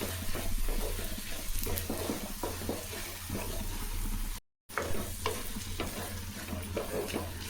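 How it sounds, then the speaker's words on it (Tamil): Masala for a Chettinad-style fish curry sautéing on medium heat, with a steady dry sizzle and repeated stirring scrapes in the pan; a brief gap of silence interrupts the otherwise continuous frying. "மிதமான தீயில வச்சு வதக்கணும், இல்லைன்னா கருகிடும்"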